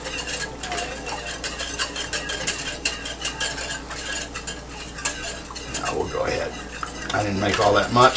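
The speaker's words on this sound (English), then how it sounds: "go on stirring with the whisk" A whisk stirs a flour and water mixture for chili colorado, giving steady scraping and swishing against the pot with faint clinks. A background sizzle runs underneath, and a voice speaks briefly.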